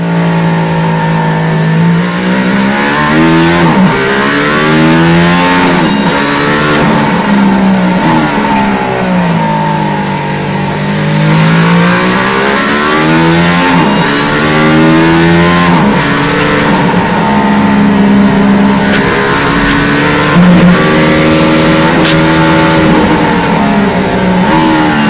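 Mercedes-AMG ONE hypercar lapping the Nürburgring Nordschleife at record pace, its engine loud and close throughout, rising and falling in repeated sweeps as it accelerates hard, shifts and brakes through corners, with no talking.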